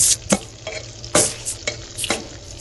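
Chillies and garlic frying in a hot pan crackle loudly up close, broken by several sharp scraping bursts as the mixture is stirred, with no talk.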